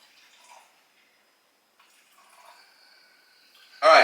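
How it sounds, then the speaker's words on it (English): Brewed coffee pours faintly into a NutriBullet blender in short, quiet trickles, followed by a sudden loud clatter at the end. "So I'm going to pour 8 ounces of this coffee into my NutriBullet."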